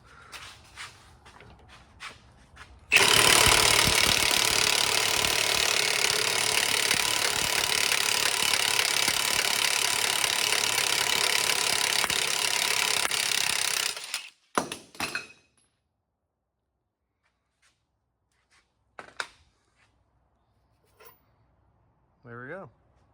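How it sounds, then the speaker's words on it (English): An impact wrench with a 19 mm socket hammers loudly and continuously for about eleven seconds, pressing a sleeve through a bushing on an R33 Skyline rear end, then stops, leaving a few faint clicks and clunks. "I got my impact on here with the 19 socket"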